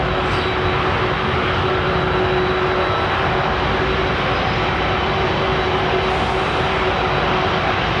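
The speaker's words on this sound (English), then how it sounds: "Here we go, listen to that 767" A Boeing 767 jet engine roars on runway 27 right at London Heathrow Airport, a loud, steady, broadband rush that fills the whole stretch without a break or a voice.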